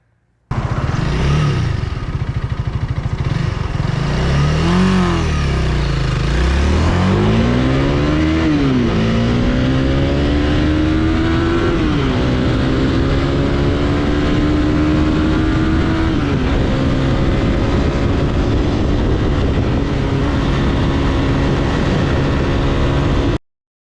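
A lightweight beginner cruiser motorcycle runs hard from zero to sixty, its engine roaring loud and close as it climbs through the gears, the pitch rising and dropping at each shift, with no voices.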